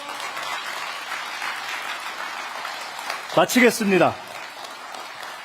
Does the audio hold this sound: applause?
yes